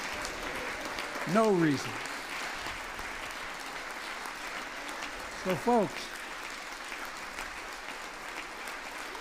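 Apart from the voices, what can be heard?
applause in Congress during Biden's address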